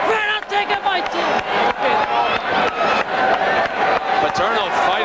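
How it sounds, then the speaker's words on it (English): A sellout crowd boos at a 1988 West Virginia versus Penn State college football game, a loud, steady stadium roar that runs under a commentator's continuous speech. "Many in the crowd, the sellout crowd here, are booing"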